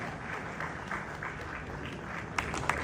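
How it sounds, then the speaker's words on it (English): An audience gives a welcoming round of applause for Wode Maya, a moderate, steady patter of clapping with a few sharper claps near the end. "Please, a round of applause for the anointed boy."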